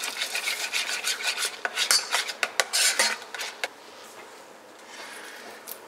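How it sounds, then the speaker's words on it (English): A utensil scrapes and rasps around a bowl while stirring 200 ml of sour cream into a chicken coating mixture. Quick, uneven strokes come close up, then ease into a quieter stir near the end. "I'm adding 200 ml of sour cream. Give this a good stir."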